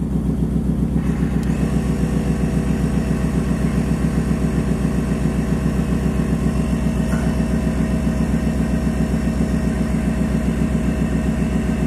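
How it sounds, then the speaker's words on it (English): Steady low mechanical drone from a 1996 GMC 3500 truck, where an air suspension compressor runs along with engine idle, continuous and even throughout with no talk. "the compressor is barely running right now"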